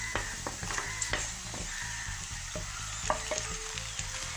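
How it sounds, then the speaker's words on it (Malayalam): Previously fried chicken stirred into an onion masala in a pan, a constant close sizzle broken by rhythmic scraping and clattering strokes of the spoon, with no talking. "ഇനി ഇതിലേക്ക് നേരത്തെ നമ്മൾ ഫ്രൈ ചെയ്തെടുത്ത് വെച്ചിട്ടുള്ള ചിക്കൻ ചേർത്ത് കൊടുക്കുക"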